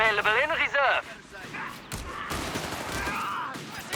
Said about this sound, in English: Didn't quite suppress with that burst with the machine gun